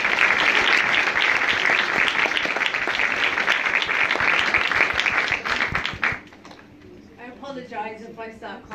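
A live event audience applauds loudly and steadily as a guest is welcomed, dense clapping sustained for about six seconds before cutting off, followed by softer crowd murmur and a voice beginning to speak.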